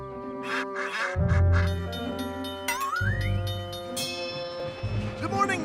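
Cartoon ducks quack in short bursts over bright background music, with a bell chiming partway through in a children's animated train show setting.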